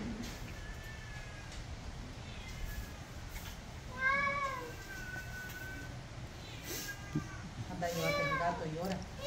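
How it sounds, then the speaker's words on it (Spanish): A cat meows several times outdoors, short repeated cries at moderate distance, heard under ongoing conversation and background noise. "El gato no es que llore, Dina, el gato."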